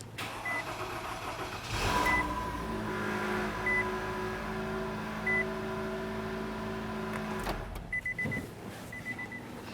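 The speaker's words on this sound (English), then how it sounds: "let's start up the vehicle and check for leaks" A 2012–2018 Nissan Altima 2.5L four-cylinder cranks briefly and catches, then settles into a steady idle heard close up. Chime-like beeps repeat before and after the start, and no one speaks.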